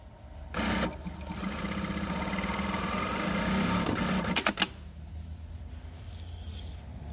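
A Juki DDL-9000C industrial sewing machine runs a steady, fast stitching whir for about four seconds, close and even, then stops with a couple of sharp clicks and falls to a quiet hum.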